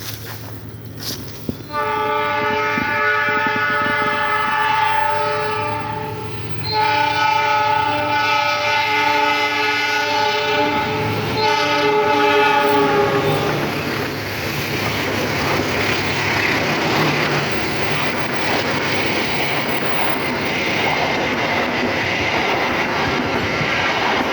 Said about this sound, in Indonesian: Kereta lewat sobat.